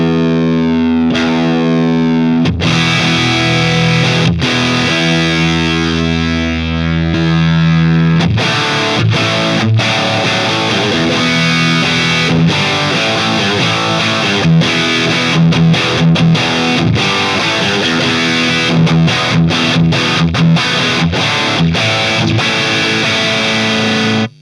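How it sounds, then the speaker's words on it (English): Electric guitar through a Dr. Z Remedy amp with boosted high-gain tones, loud distorted chords and riffs ringing out steadily with short pauses between phrases. "we'll boost it and see what sort of like higher gain tones we can get out of it"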